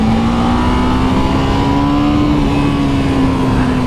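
A 2015 EBR 1190 SX motorcycle engine roars close and loud, holding a steady, buzzing drone whose pitch climbs slowly as it revs.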